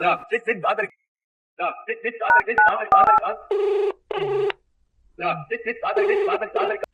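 A mobile phone call being placed: short keypad dialing beeps followed by repeated electronic ringing tones, with gaps of silence between bursts.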